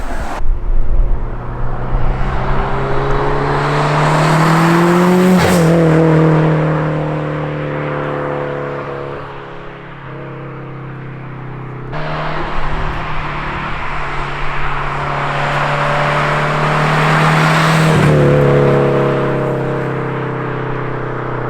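Tuned 600 wheel-horsepower Subaru WRX with nitrous revving hard and accelerating in two long pulls, pitch climbing through gear changes with a raspy, aggressive tone, loud and close.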